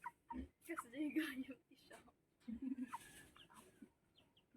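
A newly moved pet rooster clucks in short bursts, close and clear, mixed with people talking nearby.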